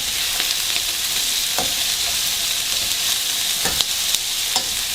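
Broccoli and brown rice stir-frying in a hot pan for a veggie fried rice, giving a steady close sizzle punctuated by a few sharp scrapes and clicks of stirring, with no one talking.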